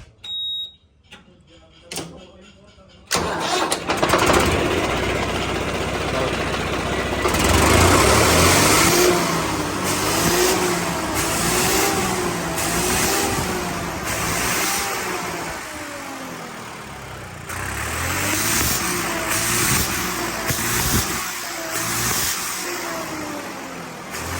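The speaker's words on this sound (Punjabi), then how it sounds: "ਤੁਹਾਨੂੰ ਸਟਾਰਟ ਕਰਕੇ ਇੱਕ ਸਾਊਂਡ ਚੈੱਕ ਕਰਾ ਦੇਣੇ ਆ ਇਸ ਟਰੈਕਟਰ ਦੀ ਵੀ ਕਿੱਦਾਂ ਦੀ ਆਵਾਜ਼ ਬਣੀ ਆ" A Swaraj 855 tractor fitted with a turbo, used on a maize machine, starts up and idles with a steady mid-pitched diesel rumble that swells in bursts of revving, with someone talking nearby.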